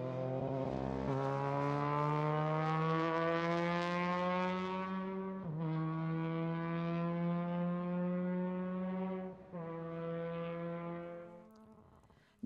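Formula race car with a rotary engine on a racetrack, screaming loudly and steadily with rising pitch across three long upshifting pulls, each gear change marked by a brief dip, close and continuous.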